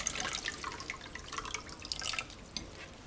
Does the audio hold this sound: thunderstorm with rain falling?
no